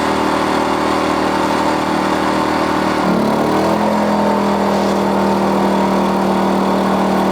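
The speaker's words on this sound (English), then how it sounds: "that's the generator when it's under load" A Harbor Freight Predator 2000 watt inverter generator drones steadily and loudly nearby, its engine pitch rising and settling into a higher, stronger hum partway through as a steamer load kicks in.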